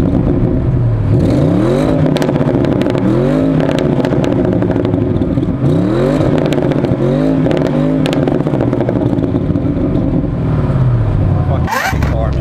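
A car engine revs repeatedly in rising bursts, loud and close, with clattering mechanical noise throughout and a brief sharp sound near the end.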